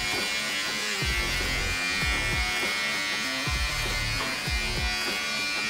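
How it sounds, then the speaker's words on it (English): Electric hair clippers buzz steadily and close by while trimming a neck hairline during a barber's flat top cut. The motor hum runs throughout, with repeated short flicks and brushing sounds against the skin. "I just put the clippers in, or the trimmers, and then ever so slightly, just flick it out"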